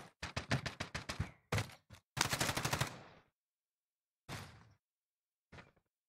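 Bursts of gunfire from a Call of Duty match, with rapid volleys of shots early on followed by a few sparse, fainter single shots spaced apart, no voices.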